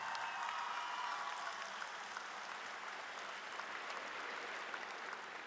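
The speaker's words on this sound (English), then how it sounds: "Give yourself a round of applause." A high school graduation crowd in a large hall applauds the graduating class, with an even, sustained roar of many hands clapping, slightly distant and faint.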